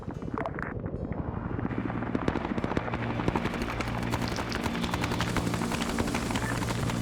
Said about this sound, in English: Wave that chopper out.